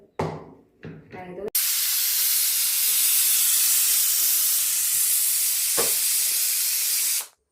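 A kitchen pressure cooker on a gas stove releases steam in a loud, sustained hiss lasting several seconds after a short burst of talk and clatter, then cuts off abruptly.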